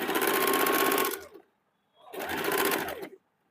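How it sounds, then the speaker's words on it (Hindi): Two bursts of a sewing machine stitching a blouse, each running about a second at a fast steady buzz, separated by a short silence, close and alone. "इसको 1/2 इंच में सिलाई कर लेंगे और पूरी इसको वी शेप में सिलाई करना है"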